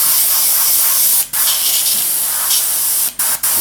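Airbrush spraying at about 25 to 30 psi while weathering a 7mm-scale Heljan VAA wagon: a steady, loud hiss with three brief cut-offs where the trigger is released, with no voices.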